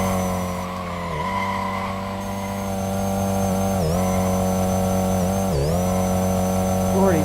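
A vehicle engine revving hard toward redline with the front tire spinning in third gear: a loud sustained mechanical whine holding pitch, with three brief dips as it bogs and recovers, and no talk over it.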